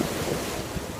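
Sea waves washing onto a beach near high tide, a continuous loud broadband surf roar with gusts of wind noise and no voices.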